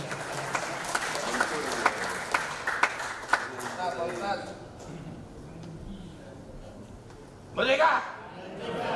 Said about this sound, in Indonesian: Boleh kita berikan tepuk tangan atas beliau.